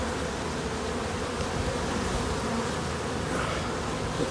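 A very large honeybee colony buzzes steadily during a hive inspection at a new apiary, a dense, continuous drone heard close up and alone throughout.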